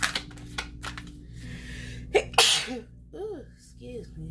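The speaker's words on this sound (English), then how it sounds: "I sneeze in your reading" A single sharp sneeze bursts out mid-clip during a tarot reading, a quick intake then an explosive noisy release, close and loud, surrounded by faint shuffling and small sounds with brief vocal murmurs afterward.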